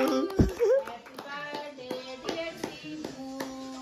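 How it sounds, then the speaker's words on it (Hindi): Friends and family clap hands at a birthday celebration, sharp scattered claps in a loose rhythm mixed with a voice and people singing along close by. "तालियां बजा दो भाई"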